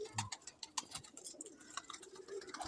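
Pigeons, including Golden Patha birds, coo in soft, repeated low phrases from a large flock, with scattered higher bird chirps and faint ticking noises around them, no talk.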